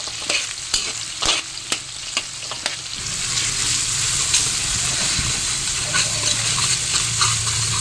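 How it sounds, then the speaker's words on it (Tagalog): Potatoes and carrots pan-fry for chicken caldereta, opening with a few sharp clatters of stirring before a loud, continuous close-up sizzle takes over. "Unahin natin itong patatas at carrot. Ipapry natin."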